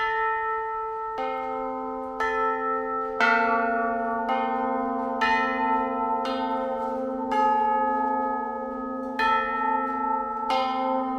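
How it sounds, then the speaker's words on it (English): A large European church bell rings with several strikes about a second or two apart, each blooming into a rich polytonal tone with distinct high and low notes that hum and decay slowly, loud and alone. "you hear a European bell, and you can hear the high note and the low note"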